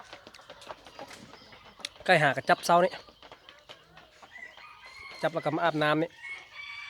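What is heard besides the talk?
rooster crowing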